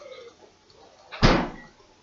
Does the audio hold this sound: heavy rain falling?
no